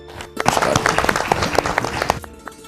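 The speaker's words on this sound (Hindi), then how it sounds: "जोरदार तालियां इनके लिए" An audience claps loudly for a guest at a talk on quitting addiction, with dense applause swelling early and running steadily for about two seconds before cutting off abruptly.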